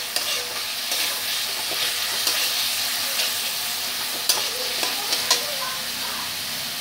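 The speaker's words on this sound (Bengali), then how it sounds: "টমেটোটা যতক্ষণ না গলে যাচ্ছে ততক্ষণ আমি এটাকে কষিয়ে নেব।" Tomatoes sizzle and fry in a pan for Punjabi-style chana masala, with steady close frying hiss broken by occasional spoon scrapes and stirring clicks, no talk.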